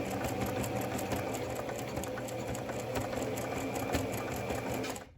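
A sewing machine stitches a fleece rat cage liner while skipping stitches, running in a steady, fast, loud mechanical whir of rapid needle strokes for about five seconds before stopping abruptly.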